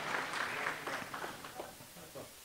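A gathering applauds in a city hall setting, a burst of clapping that is full at first, then breaks into scattered, fading claps over a couple of seconds, moderately distant.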